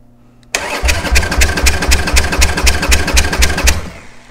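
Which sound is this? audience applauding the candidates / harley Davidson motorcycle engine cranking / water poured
harley Davidson motorcycle engine cranking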